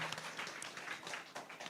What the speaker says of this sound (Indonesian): Sekali lagi kita beri tepuk tangan untuk RRI, khususnya RRI Manado.